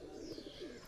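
Flying pigeons for sale coo softly in a low, continuous murmur, with a faint higher chirp drifting over the steady cooing.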